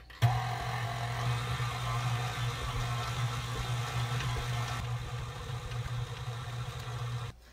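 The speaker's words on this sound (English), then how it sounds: "I will knead it here for about 5 minutes with the machine on the second setting" A stand mixer with a dough hook kneads hot cross bun dough on its second speed, giving a steady, continuous motor hum with a low whirring drone that holds evenly throughout, with no voices.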